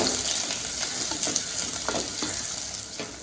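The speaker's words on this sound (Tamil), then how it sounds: "வெங்காயமும் வந்து கொஞ்சம் லைட்டாக வதங்கட்டும்." Onions sizzle and fry in a hot pan, a continuous crackling hiss with occasional stirring scrapes, close and fairly loud.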